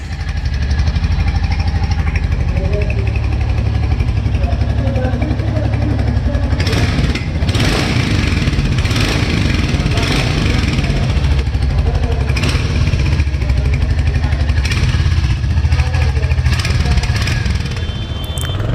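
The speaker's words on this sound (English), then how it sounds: "I'm riding Royal Enfield Hunter 350" A Royal Enfield Hunter 350 motorcycle being ridden, its single-cylinder engine thumping loud and steady throughout with strong wind rumble, the exhaust beat rising slightly in the second half.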